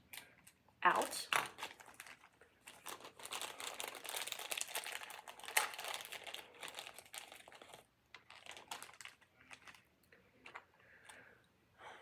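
A glucometer kit is unpacked: plastic packaging crinkles and rustles with scattered clicks and taps, fairly quiet and close, pausing briefly partway through, with a voice now and then.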